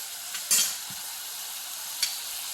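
Dried anchovies frying with ginger garlic paste, a steady hiss of hot oil broken by a couple of brief scraping stirs.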